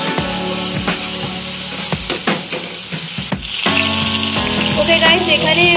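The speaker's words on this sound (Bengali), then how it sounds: "এই মশলাটাকে কিন্তু আরো একটু ভালো করে কষাতে হবে, কারণ দেখতেই পাচ্ছ এখনো পর্যন্ত তেলটা ছাড়েনি" Spice paste sizzles and is stirred in hot oil in a pan while being cooked down for a Bengali fish curry, a steady close frying hiss with scraping strokes, under background music.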